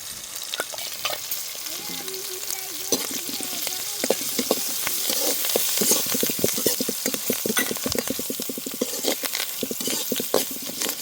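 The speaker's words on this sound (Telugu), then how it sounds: "పచ్చిమిర్చి ముక్కలు బాగా నూనెలో ఉడికినాయి." Green chilli pieces fry in hot oil with a steady, fairly loud sizzle, broken by frequent scraping stirs and clicks of a utensil against the pan.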